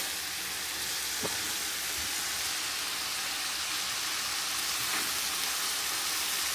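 Pork mince sizzling in a frying pan as it is stirred and broken up, a steady close hiss of frying with a few faint utensil scrapes and no talking.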